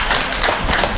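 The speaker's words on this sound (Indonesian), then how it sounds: "tepuk tangan untuk beliau" Applause for a committee coordinator at a family halal bihalal gathering, a brief steady burst of clapping from the assembled relatives with no voices over it.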